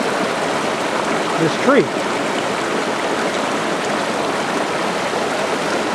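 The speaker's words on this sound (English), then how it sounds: "So we got water flowing in here, and it's flowing in there, and it's flowing underneath" A mountain stream runs near Sandbeach Lake in Wild Basin, water flowing under a tree with a steady close rushing murmur, and a bird chirps briefly once under a few spoken words.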